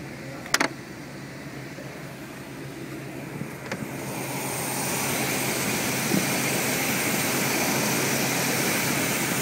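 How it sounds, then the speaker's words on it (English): A 1977 Corvette Stingray V8 idles with its hood up and aftermarket Edelbrock chrome valve covers on show, a steady droning hum that grows louder partway through, with a few light clicks near the start. "the engine running."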